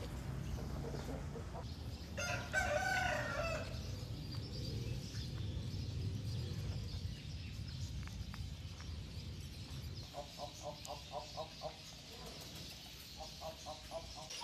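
Young Aseel rooster kept on a farm, crowing in a short burst early on, followed later by repeated clucking calls, fairly faint against a quiet outdoor background.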